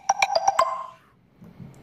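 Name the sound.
livestream notification alert sounds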